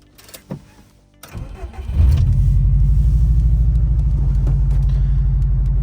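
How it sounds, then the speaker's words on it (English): Subaru EJ207 engine in an RSTi: a few clicks and a cranking start, then it catches and settles into a steady, loud, low idle rumble close to the listener. "I'm gonna go ahead and fire up this engine and give you guys a little test drive"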